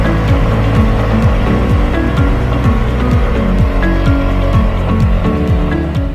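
Suzuki DF6A outboard motor runs steadily at close range, a continuous loud droning putter with a rapid, even rhythm throughout, with no voices over it.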